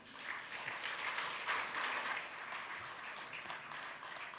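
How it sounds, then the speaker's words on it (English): Applause from the audience at an anniversary conference opening ceremony, a steady broad wash of many hands clapping that holds for the whole stretch at moderate loudness with no talk over it. "We are now officially open with another round of applause for our Honorable Ayam Bahadur Shahi Takuri."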